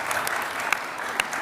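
A small audience claps briefly, a light scattered patter of hands with a couple of sharper individual claps, fairly close and modest in volume.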